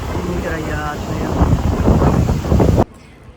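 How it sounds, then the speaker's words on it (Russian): Strong wind buffets the microphone on a busy beach by the sea, a loud rushing roar with gusts that swells and then drops off suddenly near the end. "Людей очень много, но волны, ветер зашкаливает."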